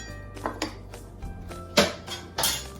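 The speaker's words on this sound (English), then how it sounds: "I'm going to add it to my marinade." Sliced pork goes into a marinade in a bowl for Korean pork bulgogi, with several clinks and clatters of a utensil against the dish and soft wet shuffles spread across a quiet kitchen background.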